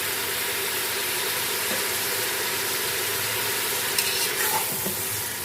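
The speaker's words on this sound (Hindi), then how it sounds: "दो मिनट तक इसको हम भूनेंगे" Ginger garlic paste fries in a pot with a steady, dense sizzle, broken by a few scraping stirs toward the end; a low background hum runs underneath.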